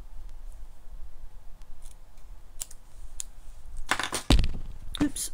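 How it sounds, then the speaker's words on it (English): Scissors snipping a piece of card during handmade card making, a few quiet clicks early on, then a cluster of sharp, close cuts and a final snip near the end, with faint background speech. "let's just snip this"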